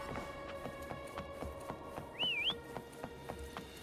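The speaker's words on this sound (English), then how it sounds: "Try whistling." A short wavering whistle, rising then dipping and rising again, played by a character in the video game Wuthering Waves over steady rhythmic ticking beats and a soft musical drone.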